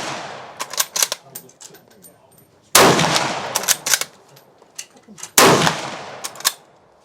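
A big game rifle fires on an outdoor range at a shooting event. Three loud, sharp shots ring out a few seconds apart, each trailing off into echo, with bolt and handling clatter between them.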